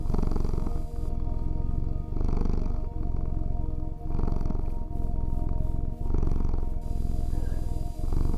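A cat purring close up, loud and steady, in a slow rhythm of long rumbling breaths with brief dips between them, no talking.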